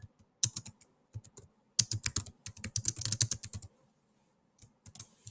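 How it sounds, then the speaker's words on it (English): Bursts of typing on a computer keyboard: quick clusters of close, crisp key clicks separated by short pauses, with a final few taps after a gap, fairly quiet and with no speech. "type my question here"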